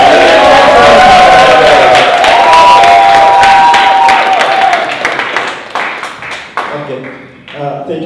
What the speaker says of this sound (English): Ladies and gentlemen, can we get a round of applause?